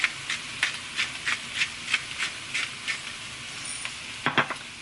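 Food seasoned with thyme, salt, pepper and onion powder is stirred in a hot pan. Rhythmic scraping strokes repeat about every third of a second over a steady sizzle, close and clear, with no talk.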